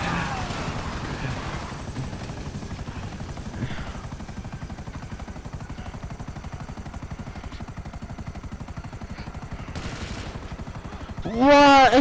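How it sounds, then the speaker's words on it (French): Dense, rapid chopping of an old helicopter's rotors in GTA 5 Online runs steadily throughout, loud and close, with a rising engine whine near the end. "C'est l'ancien hélicoptère sur GTA là."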